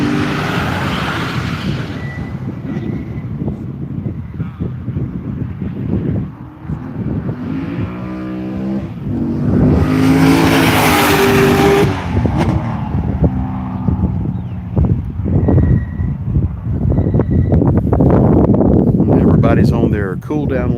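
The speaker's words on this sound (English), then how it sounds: "Now the PGR Tesla coming around the final corner, putting that power down" The PGR Tesla race car powers out of the final corner of a circuit with a loud electric whine that builds and surges mid-stretch, under steady commentary and crowd ambience.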